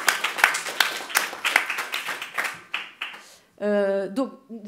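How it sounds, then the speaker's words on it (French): Scattered clapping from a small group fades out over a few seconds, followed by a brief voice at the end. "vous pouvez l'applaudir, elle est formidable"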